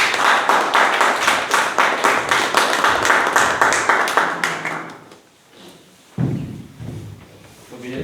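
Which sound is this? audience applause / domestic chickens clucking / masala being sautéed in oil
audience applause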